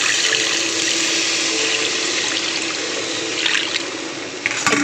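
Water is poured into a pan of spiced lentils fried with red chillies, a steady close splashing and gushing that runs without a break for the whole stretch and swells slightly near the end.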